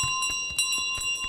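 A bell in Untitled Goose Game rings in rapid repeated metallic strikes with a steady sustained tone, close and bright, with no talking.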